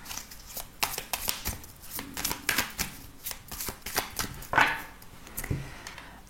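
Tarot cards are shuffled by hand up close, a quick run of papery riffles and soft slaps in an uneven rhythm, with no talking.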